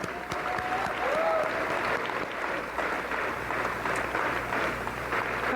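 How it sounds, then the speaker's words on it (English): A steady, moderately distant roll of audience applause at the Ontario Parasport Games opening ceremony, even and sustained throughout without pauses. "And so a round of applause for all of them."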